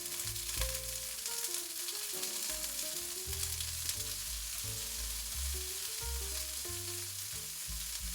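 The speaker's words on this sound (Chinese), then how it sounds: "煎大概3分钟" Oysters pan-fry in oil with a continuous soft sizzle and crackle, while quiet background music plays underneath.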